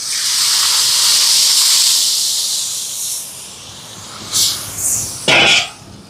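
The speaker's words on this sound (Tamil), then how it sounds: "தேங்காய் பால் சேர்க்குறேன் இது வந்து முதலாம் பால்" Thick first coconut milk poured into a hot cooking pot of tomatoes and lentils for a large batch of curry, a loud steady hiss that fades, then two short sharp sizzling bursts near the end, close up.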